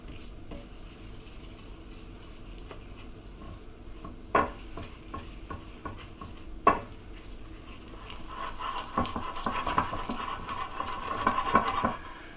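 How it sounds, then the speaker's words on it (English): Eggs and flour being whisked into pancake batter in a bowl: soft, steady stirring and scraping with occasional sharper clinks of the utensil against the bowl, growing busier toward the end, fairly quiet and close. "Pop in the eggs and start combining them"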